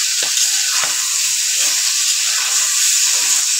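Dried gagla fish fries in a pan with a little turmeric, a loud, close, continuous hissing sizzle with bursts of crackle as the pieces are stirred.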